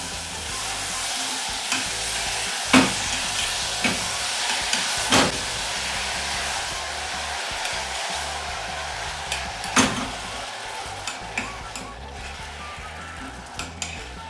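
Apples with spices and vanilla essence cooking in a pan, a continuous close sizzle broken by scattered clinks and scraping stirs, no voices.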